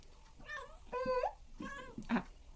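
A cat meows four times in a row, close and clear, with drawn-out, rising and falling calls and short pauses between them.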